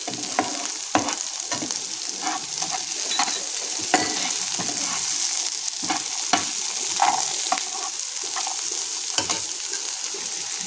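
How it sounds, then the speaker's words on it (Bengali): Potato, green beans and carrot stir-fried in a pan, giving a steady loud sizzle broken by repeated scraping stirs of a spatula, with no talk. "আলু, বিন, গাজর এগুলো প্রথমে একটু ভেজে নেব।"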